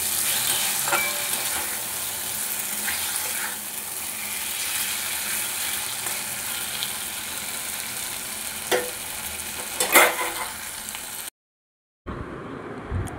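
Fish curry spice paste sautéing with half a spoon each of coriander and cumin powder plus a little water, a steady close sizzle with occasional spatula scrapes and clinks, louder knocks near the end before a short silence.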